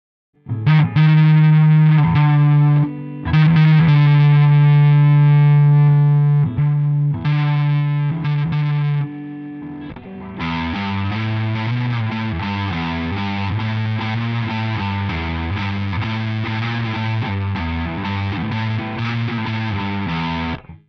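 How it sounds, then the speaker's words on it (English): Distorted electric guitar playing a riff, first sustained chords with short breaks, then a steady driving chugging pattern, loud and alone. "that's already a nice guitar sound"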